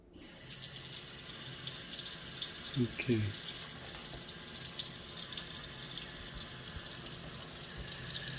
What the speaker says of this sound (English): let me turn the water back on